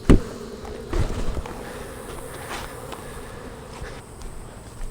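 Honeybees buzzing steadily at an open, clean-bottomed hive during nuc expansion, a continuous close insect drone with a few louder bumps and handling noises, no talking.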